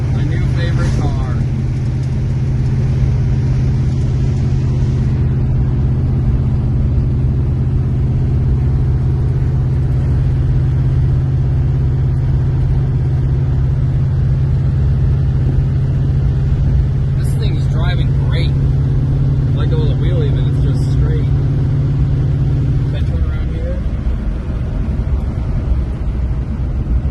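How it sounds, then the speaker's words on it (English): A Ford Mustang King Cobra cruises at about 45 mph in fourth gear, its engine a steady low drone with road rumble, the tone shifting near the end while someone talks over it. "We're going 45 right now in a King Cobra."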